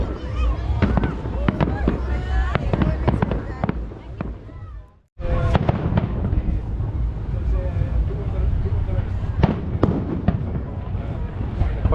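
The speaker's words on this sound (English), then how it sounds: "Put a barge out in the middle of the ocean, and they fill it up with the fireworks." Fireworks launched from a barge out on the ocean, watched from a crowded beach in front of a hotel; dense crackling bursts and booms run continuously with wind noise, briefly cutting out midway.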